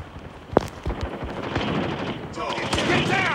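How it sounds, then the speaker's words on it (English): Shotgun fire in a battle royale video game, one sharp blast followed by busy gunfire-like bursts and ongoing game noise, fairly loud and dense throughout. "Shotguns are awesome. I love shotguns."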